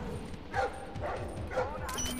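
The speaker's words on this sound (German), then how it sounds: "Schnauze, Hund!" A guard dog barks in the Splinter Cell Blacklist video game, several sharp bow-wow barks and yips in a quick series, moderately near, amid game ambience and players talking.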